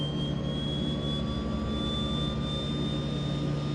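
Left engine of a DHC-6-300 Twin Otter starting up in a flight simulator, a steady whining turbine drone with a slowly rising tone and constant loud hum, no voices over it.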